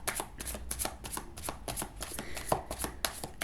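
Lenormand cards are shuffled for a reading, giving a steady run of quick, close riffling and slapping bursts in an even rhythm with no talk.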